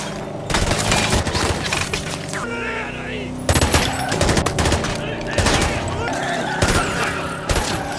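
Gangsters fire guns in a chase, dense bursts of machine-gun fire and rapid shots in several loud volleys separated by short lulls, with a voice talking underneath.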